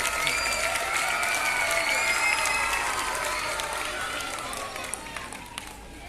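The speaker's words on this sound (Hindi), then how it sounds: "एक बार फिर जोर से तालियां" Applause and cheering from an audience at a school students' talent event, a dense steady wash of clapping with whistles and shouts, fading slightly toward the end.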